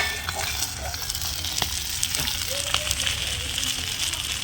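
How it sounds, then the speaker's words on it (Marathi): Spicy fish frying in a pan on a traditional stove, a steady broadband sizzle with faint stirring clicks running continuously, moderately close, while a voice talks in the background. "परत 2 ते 3 मिनिट झाकण ठेवायचं आहे, त्यामुळे मासे छान फ्राय होतील"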